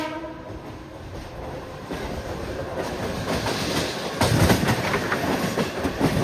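A train running over the rails on a journey toward Mumbai, its steady rumble growing louder as the wheels clatter rhythmically over track joints and changing track, close and continuous with no voices.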